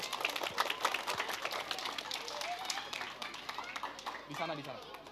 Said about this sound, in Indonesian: Kasih tepuk tangan dong buat Yoda.